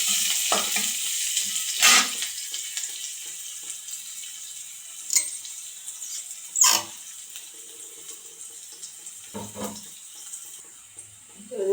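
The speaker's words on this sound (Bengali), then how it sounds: "পেঁয়াজ আর রসুন কুচি দিয়ে দিলাম।" Chopped onion and garlic fry in a pan, freshly added after fish was fried, making a continuous moderate sizzle punctuated by several sharp clatters of stirring against the pan.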